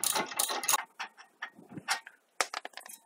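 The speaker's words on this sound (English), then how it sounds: "Now get your 17mm socket. Use it to remove these two nuts." A hand ratchet with a 17mm socket loosens suspension nuts on a 2001 Toyota Corolla during a wheel bearing job, giving bursts of quick close clicking and clattering separated by short pauses.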